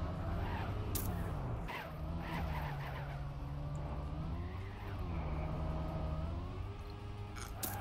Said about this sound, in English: I can hear car sounds.